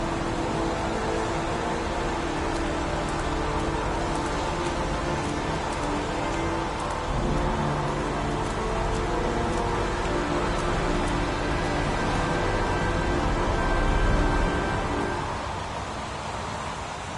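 Rain falls steadily in the video game Heavy Rain, a dense, even hiss that fills the whole stretch at constant loudness with no voices.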